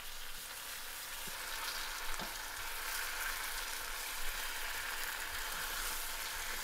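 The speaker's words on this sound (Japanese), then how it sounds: "あとはごま油をひいてタレと絡ませて焼くだけ。" Pork slices for ginger pork frying in sesame oil with sauce, a soft, even sizzle holding steady throughout, fairly quiet and close, with a couple of faint clicks and no talking.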